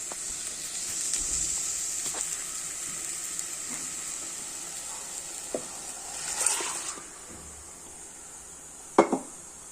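Ground paste being stirred into an anchovy and green mango curry in a pan, a steady soft simmering hiss with occasional scrapes and a sharper clink of the spoon near the end, no talk.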